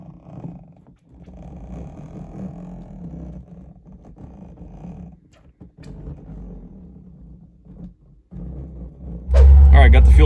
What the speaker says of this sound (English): started the car up. It's idling.